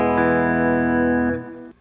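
An electric guitar played clean through a pedalboard with every pedal switched off: one chimey chord rings out bright and sustained, then fades and is cut short.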